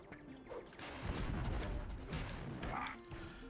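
Cannon fire from the PS1 game Spyro 2: Ripto's Rage, a run of muffled booms and crashing impacts over steady game background noise, moderately loud and with no talk.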